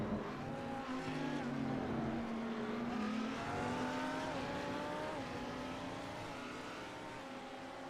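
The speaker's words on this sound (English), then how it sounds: "two very good sounding and good looking cars circulating together" Race cars circulate on the Spa-Francorchamps circuit in a sim racing endurance event, a steady engine drone with rising and shifting revs that holds and fades slightly, with commentary faintly beneath.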